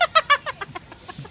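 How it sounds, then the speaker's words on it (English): A crow calls while swooping down in Taiwan, giving a quick burst of about eight to ten harsh, clipped calls that start loud and close, then grow fainter. "Oh, it's a crow of some kind, I think."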